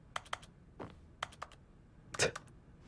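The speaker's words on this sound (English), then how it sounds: "I love that little sound, that in-game clicking sound when you click on things." Short, crisp in-game clicks in The Stanley Parable: Ultra Deluxe, about eight sharp ticks in quick uneven bursts with one fuller click, close and clean with no talking.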